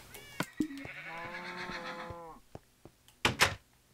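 A Minecraft horse gives a drawn-out, wavering whinny-like cry, fairly close and clear, followed by a few short soft clicks and two sharp bursts near the end.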